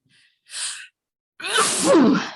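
A short sharp intake of breath, a pause, then one loud, explosive sneeze, close up and alone.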